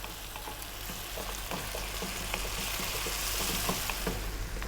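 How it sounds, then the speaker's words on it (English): Beef and ground spices frying in a pan over fairly lively heat, a steady close sizzle with occasional scraping stir sounds, no voices. "stay on this fairly lively heat, and let's go for 5 minutes now, giving it a stir every now and then"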